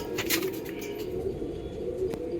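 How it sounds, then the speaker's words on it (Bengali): Young Kalanka pigeons coo softly in repeated low murmurs, close by and fairly quiet, with a few faint wing flutters and light background noise. "দেখুন পায়রা"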